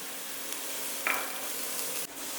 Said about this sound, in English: So now we add some oil, and we're going to cook the garlic.